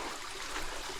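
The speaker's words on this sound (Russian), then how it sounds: "вот это он и есть тот самый знаменитый водопад." A waterfall in a canyon in the Philippines gives a brief, steady rushing wash of falling water, even and moderately distant.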